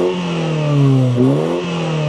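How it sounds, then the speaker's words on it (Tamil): Mini Cooper S John Cooper Works engine revving in sport mode with the valve open, a steady mid-pitched drone that swells and dips through a quick throttle blip, close and loud with no talking. "அடுத்ததான் நாங்கள் இப்போ காரண்ட சத்தத்திற்க கேட்போம். சரியா? ஸோ ஸ்டார்ட் பண்ணுறேன்."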